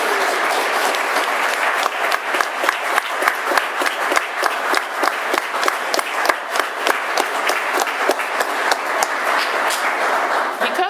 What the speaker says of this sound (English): now it is time for you guys to give them, our supporters, a round of applause